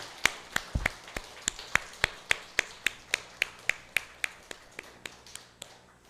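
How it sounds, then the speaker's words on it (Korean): A church congregation claps together in a steady, even rhythm of sharp, crisp beats, roughly three per second, to give thanks to God, with no voices over the claps. "우리 박수로 우리 하나님 앞에 감사의 박수를 올려드리겠습니다"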